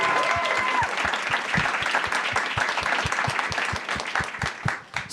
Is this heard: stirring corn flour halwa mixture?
no